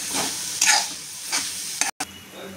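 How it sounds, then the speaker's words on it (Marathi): A fresh coconut and sugar ladoo mixture is stirred and sautéed in a pan, giving a steady close frying hiss with a few scraping swishes of the spoon and no talk. "छान असं परतून घ्यायचं।"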